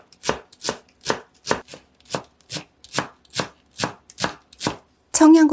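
A knife chops Asian chives for a tuna egg mixture on a board, with about a dozen even, crisp strokes in a steady rhythm close by, then a brief louder clatter at the end.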